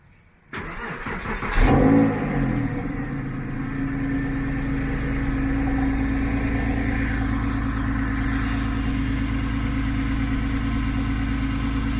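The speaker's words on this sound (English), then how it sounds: "Let's do a cold start. Check that I'm not in gear." A Porsche 996 engine cold-starts: a brief starter crank, then the engine catches with a short rev flare and settles into a steady, close, loud idle that continues to the end.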